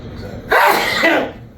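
A single loud, close sneeze bursts out after a moment of quiet background.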